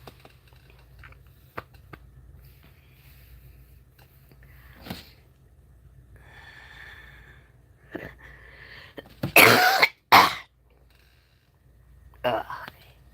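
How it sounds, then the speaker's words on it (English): Two sharp, loud coughs in quick succession stand out against a quiet room with faint background noise, followed by a softer breathy sound. "I hate that cough."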